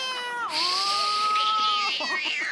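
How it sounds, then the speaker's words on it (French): A cat gives one long, drawn-out meow with a rising start and wavering end, clear and close, played as a sound to guess in a game show. "Un chat."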